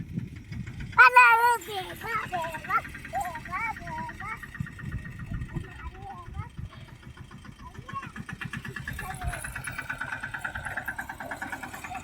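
A tractor engine starts with a sharp burst, then settles into a steady chugging idle while people talk over it.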